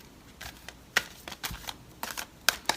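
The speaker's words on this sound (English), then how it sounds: "shuffle it just a little bit more, and then we'll split it" Tarot cards are shuffled in short, uneven bursts of riffling and soft slaps close to the microphone, several quick flurries with quiet gaps between them.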